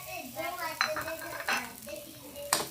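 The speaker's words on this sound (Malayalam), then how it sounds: "പിന്നെ മിക്സ് ചെയ്ത് കൊടുക്കുക" Mutton soup with crushed pepper and curry leaves being stirred in a pot: a spoon scrapes and clinks against metal in a few distinct strokes, close and fairly clear, with faint voices in the background.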